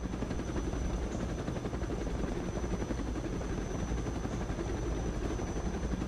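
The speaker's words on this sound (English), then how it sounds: "It's a transport plane, okay?" VTOL transport plane in the video game Counter:Side, a steady rotor-like whirring drone that holds an even level throughout, with a faint high whine on top and no voices.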